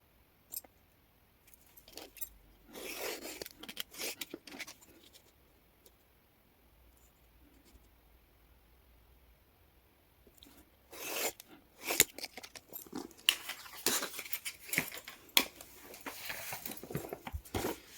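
Paper is cut into strips, with bursts of close crisp snipping and rustling separated by quiet pauses, growing busier toward the end.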